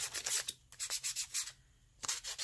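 Sandpaper rubbing across the shell of a decorated Easter egg, a close, quiet series of short scratchy strokes in an uneven rhythm, with a brief pause before the rubbing resumes.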